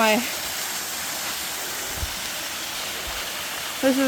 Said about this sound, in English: the third waterfall in the group of 3 in Pickens County